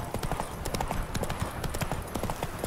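Hooves of Geralt's horse Roach clip-clop in The Witcher 3, a steady, close, rapid rhythm of sharp knocks running throughout over a soft ambient bed.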